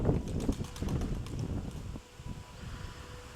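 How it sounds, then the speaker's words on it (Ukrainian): A strong south-westerly wind buffets the microphone outdoors while pigeons fly overhead, a rough, gusty rumble that is loudest at first and then eases to a lighter, steady rush. "Вітер сильний, такий південно-західний"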